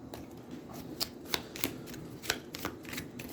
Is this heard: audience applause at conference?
no